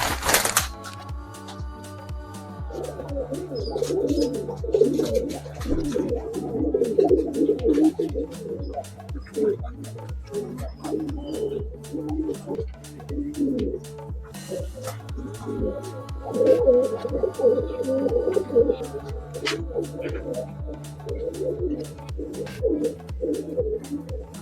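Several pigeons, including birds given as a gift and their young, coo in soft, repeated low calls close by, alongside a steady run of sharp clicking ticks and occasional faint voices.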